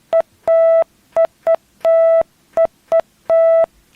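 A Christmas-melody time-check jingle tone on a Filipino morning radio show, a loud, clean electronic beeping of short blips and longer held notes in a quick, rhythmic pattern, alone without talk.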